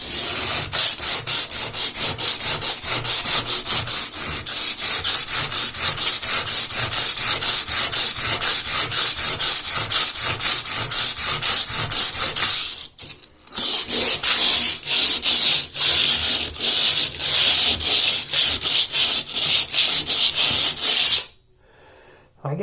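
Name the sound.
sanding a cracked painted bathroom wall above shower tile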